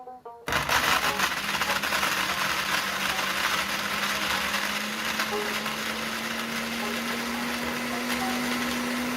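A blender grinds soaked rice into fine powder for steamed bhapa pitha, a loud continuous motor whine with a steady rising pitch that runs nearly the whole time after a brief quiet start.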